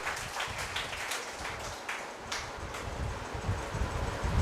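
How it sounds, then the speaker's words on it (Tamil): An audience at a yoga conference inauguration function claps in a loose, scattered patter that carries on throughout at moderate loudness. "நல்ல ஒரு கைத்தட்டல் கொடுக்கலாம்"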